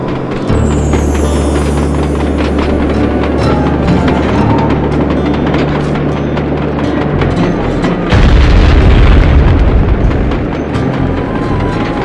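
Explosions blowing open train cabooses in the Sly 2 video game: loud, dense booming blasts over a rumbling low drone, with a heavier burst toward the end, all continuous and noisy.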